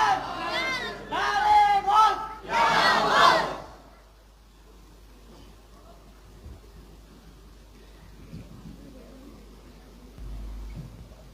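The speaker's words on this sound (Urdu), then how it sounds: "آپ نعرے لگا کر حضرت کا استقبال" A crowd at a religious gathering celebrating Ghaus-e-Azam chants slogans in loud rhythmic bursts to welcome an arriving guest, three surges over the first few seconds before fading into low murmuring hall ambience.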